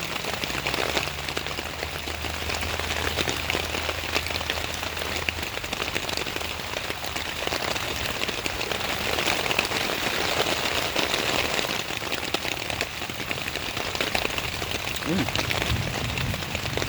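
Steady rain during a thunderstorm in the woods, a dense hiss of drops hitting leaves and surfaces that runs unbroken throughout, with a low rumble early on.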